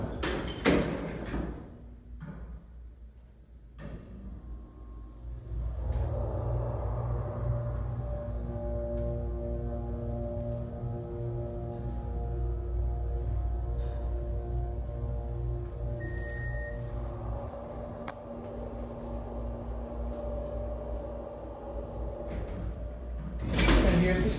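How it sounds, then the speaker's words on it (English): A huge Minnesota freight elevator with a 9,000-pound capacity, at a Burlington Coat Factory in Woodbridge, NJ, has its large door closing: clunks at the start, then a long low mechanical rumble and drone, ending in a heavy thump. "I'm gonna let the door close and then we're gonna send her off."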